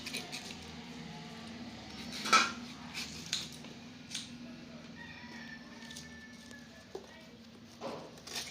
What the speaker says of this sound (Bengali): আমগুলোকে আমরা এই তো কেটে নিচ্ছি।